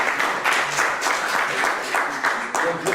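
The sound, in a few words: audience applause after a conference talk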